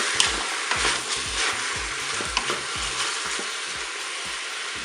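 Endives browning in a Cookeo multicooker with a steady broadband sizzle, punctuated by soft scraping and clicking as the pieces are turned, close and continuous with no talk.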